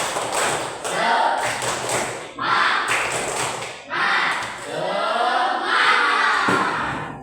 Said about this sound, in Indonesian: Kita agar lebih semangat lagi, kita tepuk semangat.